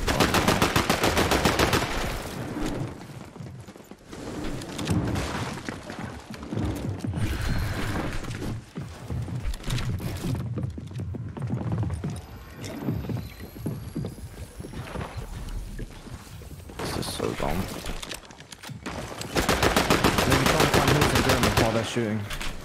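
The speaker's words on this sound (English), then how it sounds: "Shooting." Gunfire in Fortnite: rapid bursts of automatic shots and single cracks in steady, loud volleys through most of the stretch, mixed with game effects and occasional player chatter.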